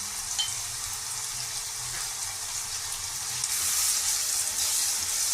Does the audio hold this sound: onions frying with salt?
yes